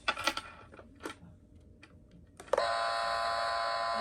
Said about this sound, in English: let's see how this doorbell sounds